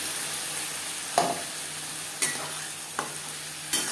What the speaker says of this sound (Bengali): পেঁয়াজের সাথে টমেটো ও আদা ও কাঁচা লঙ্কা বাটা বেশ ভালো করে মিক্স করে দেবো